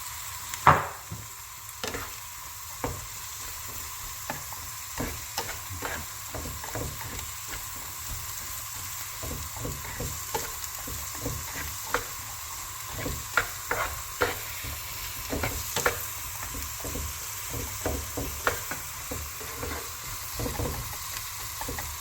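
Spices stirred in a frying pan while cooking noodles in an allium sauce: a steady sizzle of frying under repeated soft scraping and stirring strokes, close and fairly quiet, with no talking.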